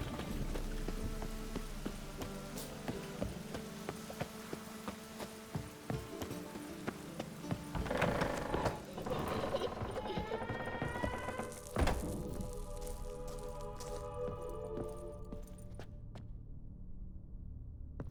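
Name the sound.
rain in The Witcher 3 video game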